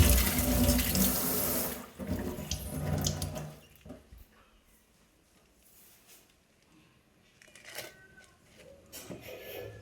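Tap water runs hard into a sink while taro leaves are washed, a loud splashing rush that cuts off after about two seconds, then faint handling sounds and brief renewed trickles and splashes.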